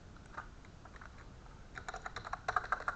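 Light keystrokes on a computer keyboard are heard close up as a meeting name is entered. A few isolated taps give way to a quick, steady burst of typing in a quiet room.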